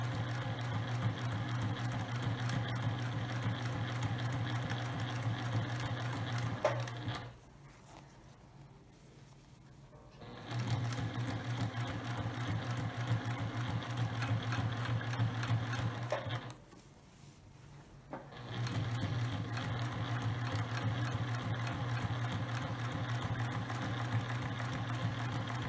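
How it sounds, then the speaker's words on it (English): Sewing machine stitching a clear vinyl drawstring bag, a steady close mechanical whirr running continuously in two long bursts with brief quiet pauses between them, no talking over it. "I'm going to start to sew, and I'm going to back stitch just a couple of times and continue to sew."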